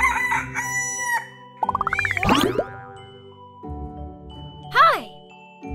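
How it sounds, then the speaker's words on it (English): A cartoonish rooster crow with a rising, warbling call rings out near and loud amid bouncy jingles and boing effects, with a second shorter crow later, set in a children's animal sounds flashcard sequence. "R is for rooster."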